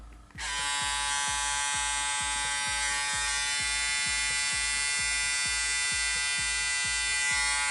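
Braun Series 7 70-B4200cs electric shaver switched on with a click, then a steady, loud buzzing hum that runs continuously and close by, with no speech.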